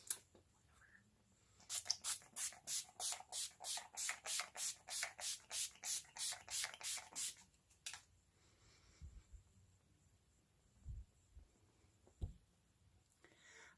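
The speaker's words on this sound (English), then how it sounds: "I'm going to use the Urban Decay All Nighter Pollution Protection Setting Spray" Urban Decay All Nighter Pollution Protection Setting Spray is pumped in a quick run of about fifteen even, close misting spritzes, then a short pause and a few faint handling knocks in a quiet room.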